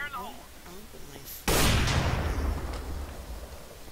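Bomb explosion in the Minecraft Mineplex Bombs game, a sudden loud blast that bursts in after a short stretch of someone talking and then rumbles and decays over a few seconds.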